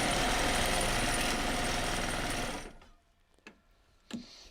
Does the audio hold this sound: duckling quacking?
no